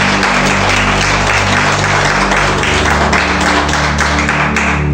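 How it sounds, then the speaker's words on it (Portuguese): A church congregation claps loudly and continuously, a dense, sustained burst of applause that fills the room, with faint voices mixed in. "Palmas para Jesus."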